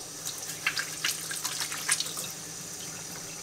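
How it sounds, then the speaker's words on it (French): Tap water runs in a home kitchen during handwashing, a soft steady trickle broken by irregular splashes and drips as hands move under the stream, close and fairly quiet. "je vais me laver les mains"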